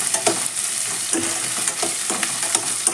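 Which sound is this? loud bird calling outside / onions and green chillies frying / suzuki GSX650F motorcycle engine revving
onions and green chillies frying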